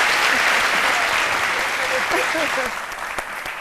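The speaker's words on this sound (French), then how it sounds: "On applaudit très fort, chef Lazare." Studio audience on a French midday TV cooking show claps loudly and continuously, with a few faint voices, before the applause tapers off toward the end.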